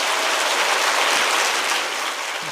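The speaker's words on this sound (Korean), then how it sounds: "우리 다시 한번 감사의 박수 하겠습니다." Church congregation at a Wednesday evening service giving a round of applause, dense and fairly loud clapping that tapers slightly toward the end, with no speech over it.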